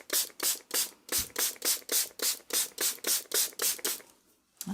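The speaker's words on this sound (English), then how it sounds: "So I have my spray bottle of water. I'm just going to go over my palette to moisten up all my watercolors." A handheld spray bottle mists water over a watercolor palette in a rapid run of about a dozen even, close puffs, each a short hiss, ending with one more spritz after a brief pause.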